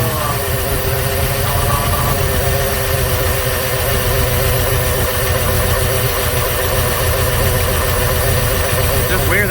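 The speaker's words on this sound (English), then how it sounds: "Weird that the engine sounds smooth again," A 1996 Jeep Grand Cherokee engine idles steadily and smoothly while warming up, a continuous close rumble with faint vibration throughout.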